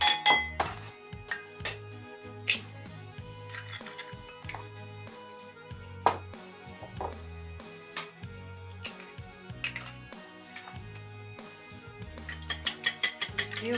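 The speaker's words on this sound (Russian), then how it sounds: "Взбиваем яичко." Eggs are whisked in a bowl for a Tatar sour cream cake, a whisk clinking rhythmically against the sides in quick, close, bright taps that run throughout with a few louder knocks.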